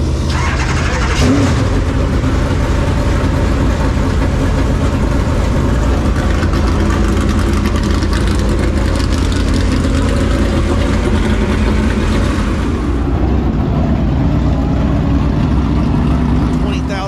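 Race cars fire their engines together in the starting zone at Senoia Raceway, a loud, dense low roar of idling and revving that holds steady the whole time, with an announcer talking over it.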